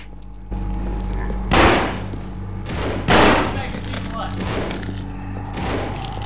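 Gunfire in the zombie shooter No More Room in Hell, a few loud, close gunshot bursts against a constant game background hum.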